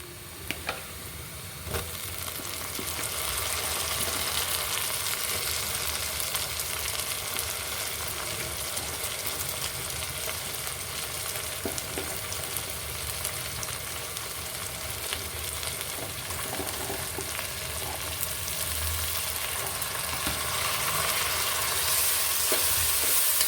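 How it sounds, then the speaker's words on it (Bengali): Tomatoes sauté with onion and whole garam masala (bay leaf, cinnamon, cardamom) in hot oil, giving a continuous close sizzle with occasional scrapes and taps of a stirring spoon, no voices. "পেঁয়াজ আর গরম মশলার সাথে আমি টমেটোগুলো কষিয়ে নিব কিছুক্ষণ"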